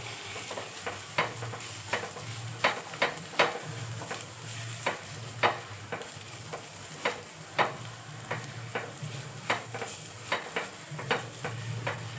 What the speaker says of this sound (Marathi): आता हे सगळं आपल्याला मिक्स करून घ्यायचं आहे